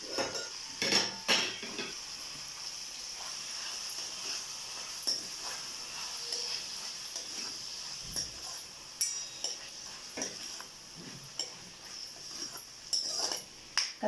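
Yam pieces go into gravy in a pot and get stirred, giving soft clinks and scrapes of a spoon against metal with faint wet shuffling, quiet and irregular throughout.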